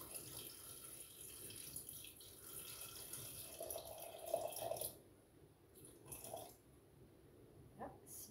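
Water runs from a tap into a pot for Finnish salmon soup, a soft steady flow that weakens and stops about halfway through, followed by faint kitchen noises.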